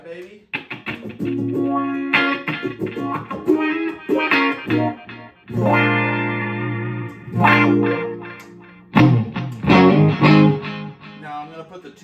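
Electric guitar through a Crybaby wah pedal in a Steve Vai live rig with a Friedman BE-100 amp, quick vowel-like sweeping notes and swelling phrases played up close and loud, broken by short gaps.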